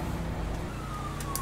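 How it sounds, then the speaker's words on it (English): Police sirens wail in the distance in GTA V roleplay, a faint wavering tone under steady engine and road noise, with no voices. "I can hear a shit ton of sirens."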